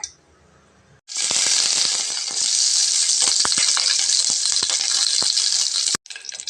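Curry leaves drop into hot oil after mustard seeds have spluttered, setting off a sudden loud, hissing sizzle with crackling pops that runs for about five seconds and then cuts off sharply.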